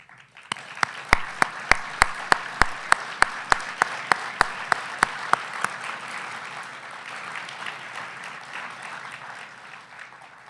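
Audience applause at a brain-research foundation gala honoring the event staff, beginning with a few sharp, distinct nearby claps over a spreading crowd clap that then settles into steady, fuller applause.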